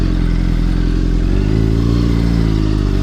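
A 2013 Honda CBR600RR sport bike being ridden, its engine a loud, steady, close drone whose pitch climbs partway through as the rider accelerates, with no talking.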